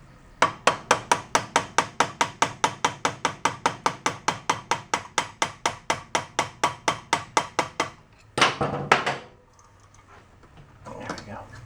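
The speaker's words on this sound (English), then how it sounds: "We'll hit it with my favorite hammer." Rapid, steady hammer strikes on a 1972 Honda SL125 motorcycle, around thirty close, loud metallic blows in even rhythm for about eight seconds, followed by a few scraping knocks and quieter handling.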